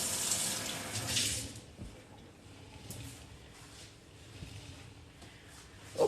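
Water runs from a tap for about a second and a half while hands are washed beneath it, then quieter splashing and rubbing of wet hands continues over faint room noise, ending with a louder knock.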